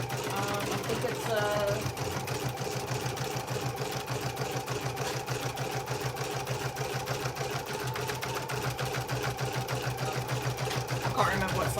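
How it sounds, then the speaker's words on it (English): An embroidery machine, slowed to its slowest speed, stitches an in-the-hoop heart oven mitt through a double layer with a universal needle, humming in a steady rapid rhythm throughout while a person talks over it. "I slow my machine down right to its slowest, and then it embroiders just fine"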